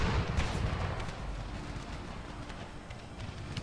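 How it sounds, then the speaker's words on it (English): Revolvers fire in a Civil War strategy video game set during an invasion of Cuba, sounding as scattered shots blended into a dense, continuous rumble of battle noise. "They're firing their revolvers."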